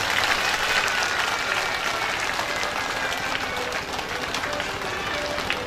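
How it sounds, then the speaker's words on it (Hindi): Loud, steady applause from an audience at a Shrimad Bhagwat Katha religious discourse gathering, dense clapping filling the whole stretch without pause and with no talk over it. "एक बार जोरदार ताली बजा दिया"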